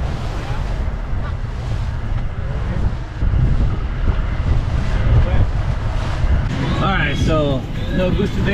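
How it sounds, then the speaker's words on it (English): Strong wind buffets the microphone with a constant low roar over choppy open water at Fort Myers Beach, waves slapping nearby, while people talk under the gusts. "it's really windy and choppy here"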